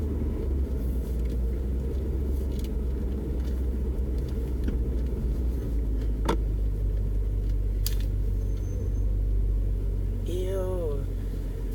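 Cars pass along a residential street, a steady rumble of road traffic close by and continuous throughout, with a faint chirp near the end.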